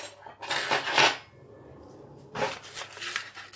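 A spoon clinks and scrapes against a mixing bowl as flour goes in for a génoise sponge cake batter, two bursts of close, bright clattering with a short quiet gap between.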